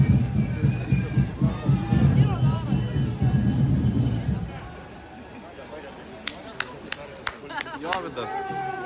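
A crowd at an LGBTQ march in Kaunas, a loud mass of overlapping voices and shouting close by, easing into a quieter stretch with sharp claps and knocks near the end.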